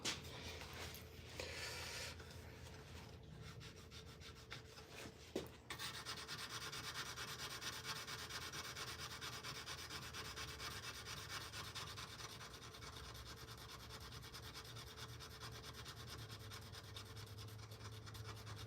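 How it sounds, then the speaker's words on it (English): Mold polishing stones rub steadily against a blade being shaped, a continuous gritty sanding rasp that is close and even. One brief knock interrupts it early on. "These are what we call mold polishing stones."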